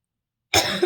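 A single short cough breaks abruptly out of silence, close and fairly loud.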